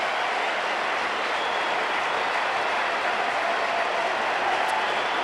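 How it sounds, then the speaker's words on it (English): A baseball stadium crowd at a Cubs-Astros game roars continuously as fans stand late in the ninth inning, a dense, steady wash of cheering with no break. "Listen to the crowd."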